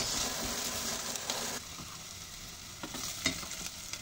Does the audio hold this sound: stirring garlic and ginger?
yes